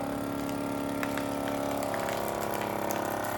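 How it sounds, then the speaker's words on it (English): A vacuum food sealer pumps air out of a plastic food bag with a steady, loud motor drone and faint rhythmic pulsing throughout. "And now you're gonna hit vacuum seal"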